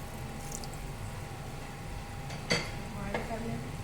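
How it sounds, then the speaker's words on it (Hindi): Water goes into a pot of frying chicken for turnip curry, a steady sizzle and crackle that flares into a sharper hiss burst, then settles back into bubbling. "थोड़ा सा पानी डाल देंगे इसमें।"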